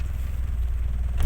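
A motor vehicle engine idling right after starting, heard as a close, steady low rumble that lasts the whole short moment.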